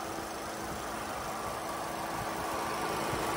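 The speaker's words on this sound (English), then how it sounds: "A little 2-liter four-cylinder turbo." A 2015 Volkswagen Golf R with a 2-liter turbocharged four-cylinder runs at a steady idle, a continuous even hum and faint mechanical vibration close by, with no one talking.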